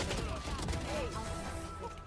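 Bursts of Fortnite video game gunfire rattle in rapid fusillades under a steady bed of game sound, with a person talking over the shots.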